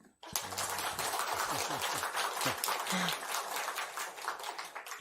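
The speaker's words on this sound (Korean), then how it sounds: "박수 한번 쳐드려요" A church congregation bursts into sustained applause during a choir dedication service, dense clapping that starts abruptly and carries on steadily, with a few voices underneath.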